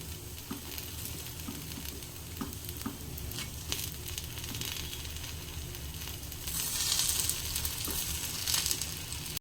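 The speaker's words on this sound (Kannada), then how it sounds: "ಒಂದು ಸೈಡ್ ಆಗಾದ್ಮೇಲೆ ಇನ್ನೊಂದು ಸೈಡ್ ಕೂಡ ಫ್ರೈ ಮಾಡ್ಕೊಳ್ಳೋಣ." Rava paddu fry in oil on a hot pan with a steady, close crackling sizzle that grows brighter and louder toward the end, with occasional light stirring clicks.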